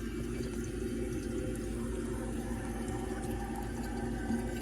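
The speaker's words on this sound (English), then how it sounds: "Bowl rinse." A restored 1958 Standard Cadet toilet rinses its bowl with a steady, close rush of water that holds an even loudness throughout.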